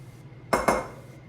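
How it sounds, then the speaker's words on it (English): A metal mixing bowl lifted off a stand mixer after making focaccia dough, two quick close metallic clanks about a sixth of a second apart, then quiet kitchen background. "so we're going to take the bowl off."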